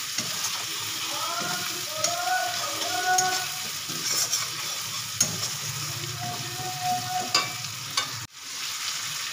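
Spices with ground cumin sizzle and fry in a pan, a steady crackle with repeated scraping strokes of a spoon stirring them, close and continuous with no talk.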